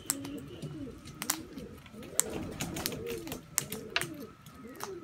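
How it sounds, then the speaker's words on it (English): A currawong gives soft, repeated warbling calls nearby, faint and low in a quiet outdoor setting. "Here's a currawong up here. Very melodious bird you are."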